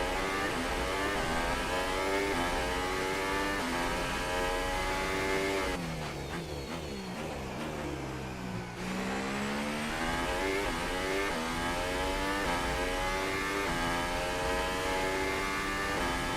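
Formula 1 cars race in F1 2018 at Bahrain, the Ferrari and Mercedes engines screaming loud and continuous, pitch swooping up and down through gear changes and passes, with no talk.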